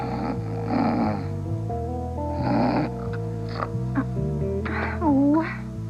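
A woman snores loudly in a television drama scene, with rasping, drawn-out breaths in several rhythmic bursts, close and prominent over a low background tone.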